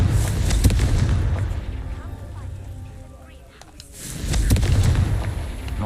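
A Confringo fire spell explodes in Hogwarts Legacy with a loud, heavy boom at the start and another rumbling blast a few seconds later, both rolling off into a low roar.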